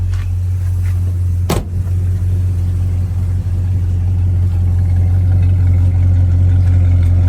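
A 1973 Plymouth Road Runner with dual exhaust running at idle, a loud, steady low rumble close by with one brief sharp click early on, no voices.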